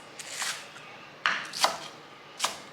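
Knife dicing green onions on a cutting board, heard as three or four quick, close chopping bursts spaced about a second apart against a quiet background.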